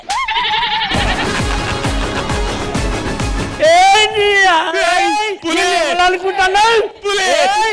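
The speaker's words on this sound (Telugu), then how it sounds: "మేకపోతే వచ్చింది" On a Telugu TV comedy stage show, a male goat gives loud, close, wavering bleats in quick repeated bursts after a busy stretch of other noise, with voices and crowd babble around it.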